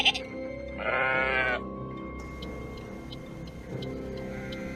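A sheep bleats loudly once, a wavering nasal cry, over a low background hum with faint ticking, near a road.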